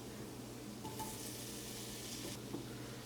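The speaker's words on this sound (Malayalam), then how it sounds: "ഇനി ഇതിലേക്ക് ചോപ്പ് ചെയ്ത് വെച്ചേക്കുന്ന തക്കാളി ചേർക്കാം." Chopped tomatoes stirred into a prawn roast masala frying in a pan, a steady sizzle with a brief louder hiss of the tomatoes hitting the oil and a faint clink near the end.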